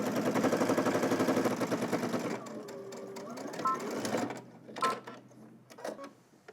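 Topstitching a quarter-inch seam on sweatpants, a sewing machine hums in a fast, steady mechanical rattle for a couple of seconds, then stops, leaving quiet handling noises and small clicks.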